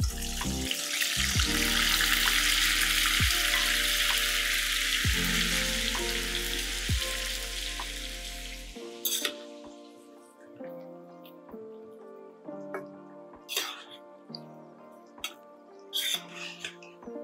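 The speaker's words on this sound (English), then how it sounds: "The lotus stem is fried like so." Lotus stem (nadru) for Kashmiri yakhni hisses loudly in hot oil for about nine seconds with a few utensil knocks, then the sizzle fades to a soft crackle alongside scattered clinks and light kitchen clatter.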